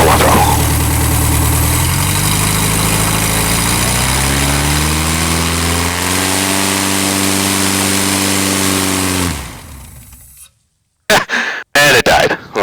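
Air-cooled Volkswagen engine on a Sonex aircraft idles with a loud, steady drone that shifts pitch as throttle changes, then sputters and cuts out near the end, leaving brief silence broken by a few short bursts.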